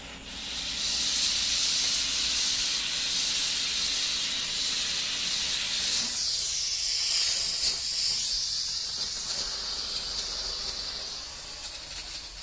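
A Chief steamer sprays steam across a car hood to lift tree sap, a loud continuous hiss that holds for the whole stretch, shifting slightly midway as the nozzle moves.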